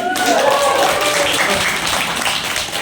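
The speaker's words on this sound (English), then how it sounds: "Shall we clap for them also?" Students in a law college classroom applaud together during a Teachers Day event, a steady, fairly loud patter of many hands clapping throughout with some voices mixed in.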